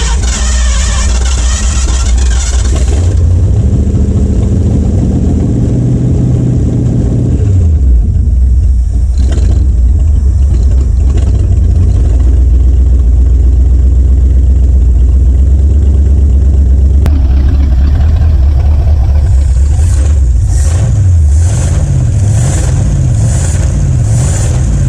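A Ford Galaxy 500 engine, revived after sitting 29 years in a barn, runs loudly and close, idling roughly with a few revs and some rattling, no talking heard.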